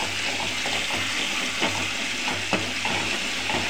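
Masala sizzles in hot oil in a pan for a Botti curry, a continuous crackling fry broken by brief scraping stirs, close and steady with no talk.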